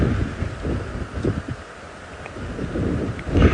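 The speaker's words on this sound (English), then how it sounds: "You might be able to hear the wind that's bringing the rain towards us." Gusty wind buffets the open air at sunset on a safari drive as rain approaches, a rough, low rumbling roar that swells and fades in near gusts.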